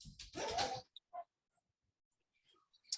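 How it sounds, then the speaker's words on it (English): A pet dog in the background at home giving a few short whimpers and yips, one louder burst followed by faint scattered whines in otherwise quiet surroundings. "I have my dog on the background."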